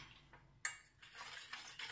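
A spoon stirs flour and sugar together in a bowl, giving faint, close scraping and light clinks in short irregular strokes, with no talking.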